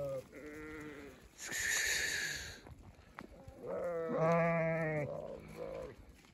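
Sheep bleat repeatedly outdoors on a sunny spring day, several overlapping wavering calls from a flock at close range, loud and continuous with no talking.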